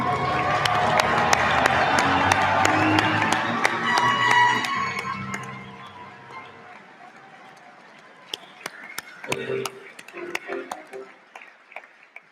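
Audience applause and cheering fill a commencement ceremony for graduating students, a dense loud round of clapping that swells for several seconds then fades, leaving scattered claps and faint murmuring.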